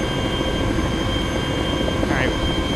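A Chinook helicopter in the game Arma 2: Wasteland gives off a loud, constant rotor and engine roar that fills the whole stretch without letting up.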